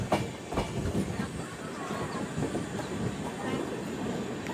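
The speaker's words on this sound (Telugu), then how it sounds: "ఇక్కడ ట్రైన్ అయితే మెయిన్ లైన్ నుంచి లూప్ లైన్లోకి వెళ్ళిపోయింది." The Kacheguda Weekly Express crossing from the main line onto a loop line, rhythmic clickety-clack of wheels over points and joints under a steady rolling rumble, fairly close, with no one talking.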